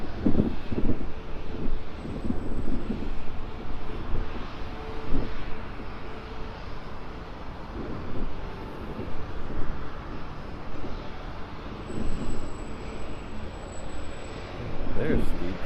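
A British Airways airliner passing overhead near LAX, a steady broad rumble with wind buffeting the microphone throughout, brief louder swells, and people talking over it.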